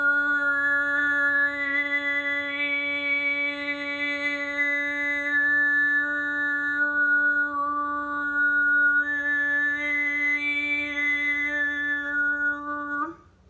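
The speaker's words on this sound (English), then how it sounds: "This is a unique vocal technique called overtone singing" A singer sustains a steady low drone while a whistling overtone glides up and down above it, one continuous close, loud note for about thirteen seconds, with no talking.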